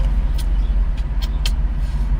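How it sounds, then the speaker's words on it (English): Steady low engine rumble and road noise from a car cruising along a road trip route on Maui, continuous and close, with a few faint brief high clicks over the hum. "I'm driving today, so that's fun. I like this car so far."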